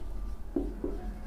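Chalk or marker scrapes across a board during a Hindi grammar lesson in two short, soft strokes under a low room hum.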